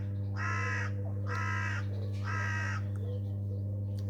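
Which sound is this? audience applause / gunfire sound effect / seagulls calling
seagulls calling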